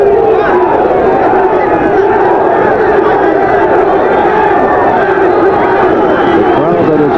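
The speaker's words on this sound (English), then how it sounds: "The crowd that is here is a noisy crowd." Dense crowd noise from a 1984 Houston Gamblers vs San Antonio Gunslingers pro football game fills the stadium, a steady loud roar and babble throughout, with an announcer's voice running underneath.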